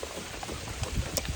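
Rain falling during a fishing trip on the water, a soft patter of scattered drops with a few louder taps, faint and brief.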